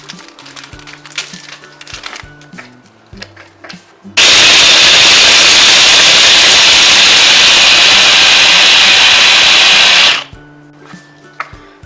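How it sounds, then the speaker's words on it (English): A mixer grinder roars at full speed for about six seconds, coarsely grinding Oreo biscuits, loud and steady before it stops abruptly, with quiet clattering before and after. "I am going to add some Oreo biscuits into this and grind this coarsely"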